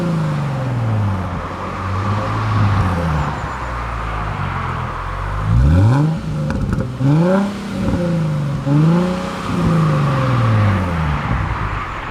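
A Nissan 370Z fitted with a Scorpion back box exhaust drones steadily from inside the cabin, with several rising rev swells and gear-change dips as it accelerates, loud and continuous with no talk.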